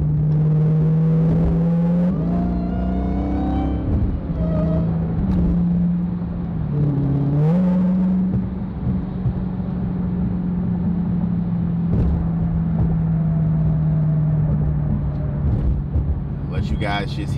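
Exhaust of a 2022 Dodge Hellcat driven on the road in sport mode, a steady deep low drone with a few brief revving swells early on, heard from inside the cabin.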